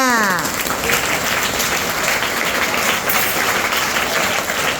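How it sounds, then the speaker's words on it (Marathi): An audience of students at a coaching academy gathering applauds: loud, sustained clapping from many hands, dense and even for about five seconds, with a few voices mixed in. "टाळ्या वाजवा"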